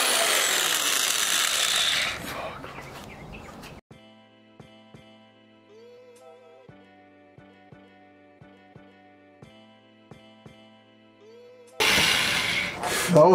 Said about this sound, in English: He's about to drill the first one.